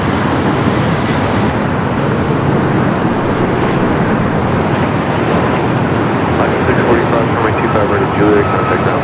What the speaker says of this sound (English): We do have the Dreamliner heading to 24 left.